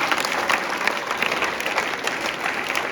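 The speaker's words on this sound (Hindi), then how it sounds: "बच्चों तालियां बजती रहनी चाहिए।" Schoolchildren clap steadily for a teacher at a school event, sustained even applause from a crowd at moderate distance.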